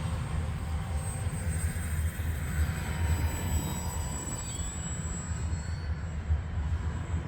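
An Arrows F4U-4 Corsair radio-controlled model airplane flies overhead, its electric motor giving a faint continuous whine over a low steady rumble of wind and background noise.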